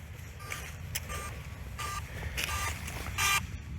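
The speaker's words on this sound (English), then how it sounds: "The drone is flashing and beeping." A DJI Mavic Mini drone's locator alarm beeping outdoors, a series of short, high electronic beeps repeating at irregular intervals, moderately faint over a low rumbling background.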